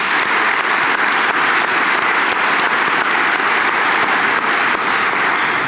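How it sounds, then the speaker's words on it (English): A large audience at a college convocation and reunion gathering breaks into sustained, loud applause, an even roar of many hands clapping with no letup from start to finish. "Can we give Dana a round of applause?"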